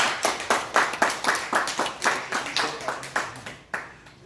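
Audience at a Daejonggyo religious lecture clapping hands in a steady rhythmic beat, about eight claps per second-pair, close and loud, continuing evenly for several seconds with no talk over it.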